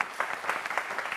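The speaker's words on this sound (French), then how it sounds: "je pense qu'on va encore l'applaudir très fort s'il vous plaît" Audience applause at a live televised show, a brief burst of dense clapping at moderate level with no voices over it.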